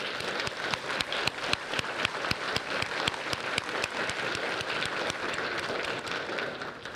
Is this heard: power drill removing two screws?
no